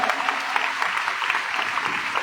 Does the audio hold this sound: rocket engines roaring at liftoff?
no